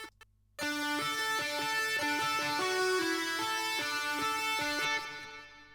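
A chiptune-style synth lead doubled by a reverb-washed guitar carries a pop melody after a brief quiet start. The notes are steady and evenly paced, the layered tone is full, and it fades slightly at the close.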